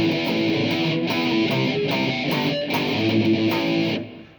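Distorted electric guitar playing the part B riff: a dense, gritty, sustained stream of chugging chords and notes with short breaks in between, loud and close, heard alone until it cuts off near the end.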